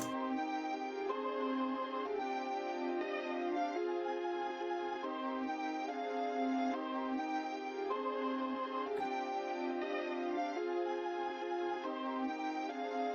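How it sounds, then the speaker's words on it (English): Drill beat loop pitched down 200 cents, a steady, loud melodic pattern with rhythmic pulses recurring about every second, continuous without talk throughout. "I pitched it down 200 cents, so now it sounds like this."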